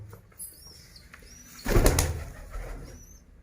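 Pigeons in a loft housing chicks and eggs give soft low coos, joined by a sudden flurry of wing flaps near the middle, with thin chirps above and no voices.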